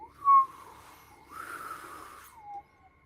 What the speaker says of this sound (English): You hear a faint whistle